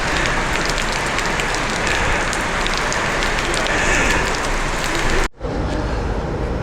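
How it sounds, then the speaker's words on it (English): Steady rain hisses near the Croatian border on a walk from Zagreb toward Belgrade, falling close and loud as a dense continuous wash for about five seconds, then cutting off briefly before resuming. "the rain has just started"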